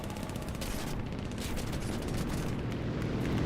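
Continuous rattling 7.62 machine gun fire from an aircraft in War Thunder, a steady dense stream of shots held at a moderate level with no pauses.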